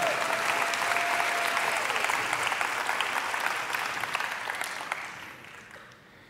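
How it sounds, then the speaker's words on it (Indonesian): A church congregation applauds in a sustained, even wash of clapping that holds steady and then fades away toward the end. "Dari tepuk tangannya sih bukan tepuk tangan antusias nih."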